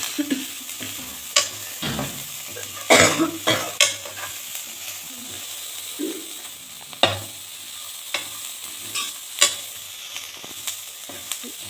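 Turmeric powder, onion and green chilli stirred in a hot pan: continuous sizzling with repeated scraping and tapping strokes of a spoon, irregular and close, with no talking.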